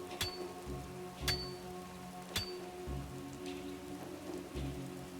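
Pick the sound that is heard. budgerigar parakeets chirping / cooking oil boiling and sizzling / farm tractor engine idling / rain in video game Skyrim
rain in video game Skyrim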